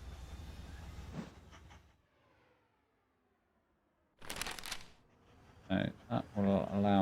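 A train in the Mashinky railway game rolls along with a rumbling clatter that fades into quiet, then a sharp burst of noise and a person talking over it.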